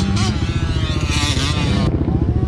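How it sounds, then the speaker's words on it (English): A carbureted dirt bike rips around a corner on a ranch track, its loud, close engine droning steadily with wavering pitch as it carries speed through the turn. "So the carbureted bikes, they seem to be better at ripping around this corner carrying speed."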